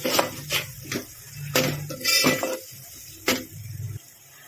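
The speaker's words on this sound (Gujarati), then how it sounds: "હવે આપણે સારી રીતે મિક્સ કરી દઈશું." A spoon stirs chilli powder, coriander-cumin and turmeric into a green pigeon pea curry in a pan, giving a series of irregular, close metallic scrapes and clinks against the pan.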